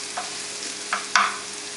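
Leeks stir and sizzle in a pan for a leek, potato and smoked bacon empanada: a soft, steady frying hiss carries throughout, marked by three short scraping stirs, the last one louder and closer.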